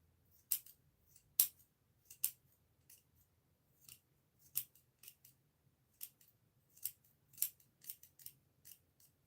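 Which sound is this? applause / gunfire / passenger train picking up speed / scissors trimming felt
scissors trimming felt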